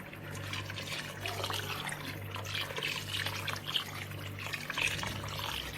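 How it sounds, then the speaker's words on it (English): Water is poured steadily over rice in a cooking pot for lamb akni, a continuous soft splashing trickle lasting throughout with a low background hum and no talking. "So guys, in goes the water."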